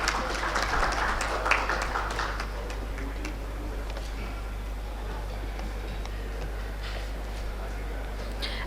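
Applause from an audience at an urban infrastructure summit during a rail and transport expo. It is loudest at first, then thins into a steady, softer patter of scattered claps over a constant low hum.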